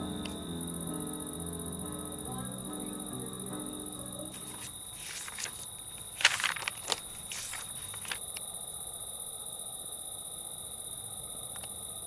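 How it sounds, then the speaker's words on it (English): Steady high-pitched cicada chirring runs throughout on a summer night in Scopello, Sicily, with crickets trilling in the background and a few brief rustling steps partway through. "the sound of cicadas and crickets"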